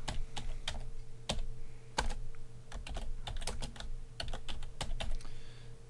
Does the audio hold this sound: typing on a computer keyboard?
yes